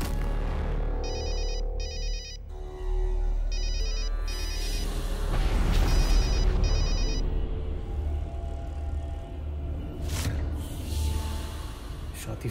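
A phone ringtone repeats in short electronic bursts over several seconds, fairly loud in a room, with dramatic background music and brief voices in between.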